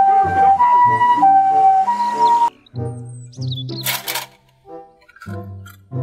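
Toy ambulance siren wailing in a steady two-tone pattern, loud and close, then cutting off, followed by a voice speaking alongside clicks and short toy noises.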